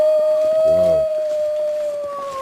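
A wolf in the survival video game The Long Dark lets out a long, clear sustained howl, loud and steady, holding one pitch for over two seconds with a deeper growl-like burst briefly underneath early on.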